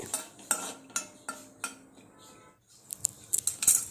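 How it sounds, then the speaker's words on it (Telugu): Cashews fry in ghee in a pan and are stirred, with sharp metallic spoon clinks against the pan in a rough rhythm, a short lull, then quicker clatter over a faint sizzle. "సో ఇవేంటంటే కొంచెం లైట్గా బ్రౌన్ కలర్ వచ్చేంత వరకు కూడా ఫ్రై చేసుకోవాలి"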